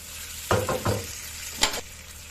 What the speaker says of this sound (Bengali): এর মধ্যে দিয়ে দেবো আমি ভেজে রাখা সবজিগুলো। দিয়ে আবার কষাতে থাকবো।